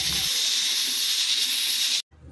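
A pressure cooker cooking white hominy vents a loud, steady hiss of steam for about two seconds, then cuts off abruptly to near silence and a faint low rumble.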